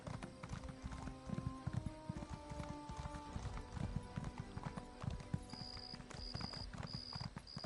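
Hooves of an Imperial horse in Elder Scrolls Online clip-clop steadily and closely throughout, with a regular galloping rhythm over game ambience and a brief repeated tone near the end.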